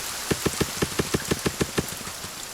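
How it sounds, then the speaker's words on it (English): Steady rain hiss in the survival video game The Forest, a dense wash of patter that carries through the whole moment, with a quick run of about ten evenly spaced soft thuds over it in the first half before it settles back to rain alone. "And it's raining, so it's even better."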